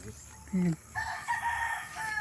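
A rooster crows at moderate distance, preceded by a short low cluck, against faint outdoor background noise.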